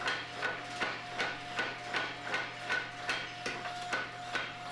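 A mechanical power hammer built around 1917 pounds in a fast, steady rhythm while forging mosaic chef knife steel, with repeated metallic blows about two or three per second and no talking.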